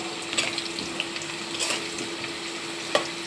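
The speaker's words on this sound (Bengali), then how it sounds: "তো আলুটা ভাজা হচ্ছে, একটু করে আলুটা একটু উল্টিয়ে দিই।" Potatoes frying in a pan give a steady close sizzle with light crackles and pops, alongside a faint, constant hum.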